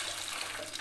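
Water pours steadily into a cooking pot of fried onions and rice for prawn biriyani, a short, even rushing splash heard alone at moderate level.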